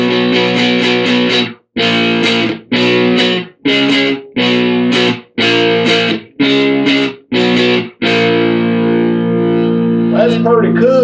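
Heavily distorted guitar chords strum in a choppy, repeating rhythm with brief gaps between hits, loud and gritty, ending in a sustained buzzing note.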